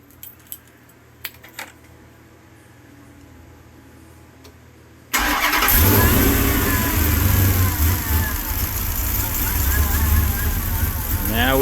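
Hellcat Hemi engine installed in a Winnebago RV starting up: a few faint clicks in near silence, then a sudden loud catch into a deep, rumbling idle that stays strong and close to the end.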